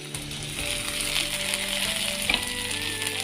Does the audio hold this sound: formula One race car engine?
no